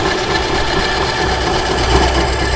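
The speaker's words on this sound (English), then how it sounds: "I like the bandsaw up here like this because I can look right at what I'm doing. Run right down the edge of that pickguard" A tabletop bandsaw runs steadily nearby with a constant motor hum and buzz while its blade cuts along the edge of a pickguard template, a slight swell near the end as the cut bites.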